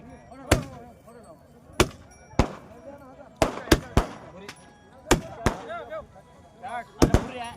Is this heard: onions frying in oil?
no